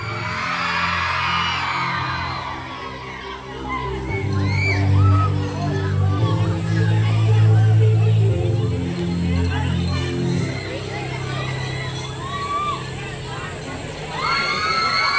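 Crowd of children at a school sports day cheering and shouting in a loud, sustained roar, with high whoops and yells rising above the babble over a low loudspeaker hum.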